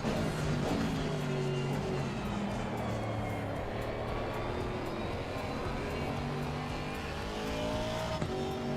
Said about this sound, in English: car sounds like a tractor.